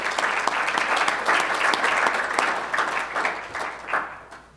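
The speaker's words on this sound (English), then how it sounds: "everybody should applaud for doing all this work" A lecture audience applauds, steady dense clapping from many people that swells, then thins and fades toward the end, with no speech over it.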